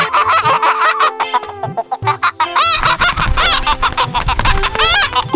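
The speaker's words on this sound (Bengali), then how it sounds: "একি এ কেমন মুরগি, এ তো উটপাখির মতো বড়।" Cartoon chicken clucking and squawking in rapid, lively bursts, loud and close, with busy music and sound effects around it, the calls growing denser and more excited in the second half.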